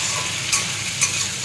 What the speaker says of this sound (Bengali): মোটামুটি ভাজা হয়ে এসেছে।